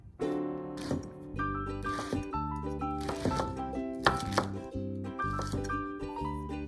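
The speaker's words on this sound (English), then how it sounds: "Then cut the Shimeji mushrooms into small pieces." Shimeji mushrooms are cut into small pieces with a knife, a series of close, crisp chopping taps against a board in an uneven rhythm, over a bed of soft background music.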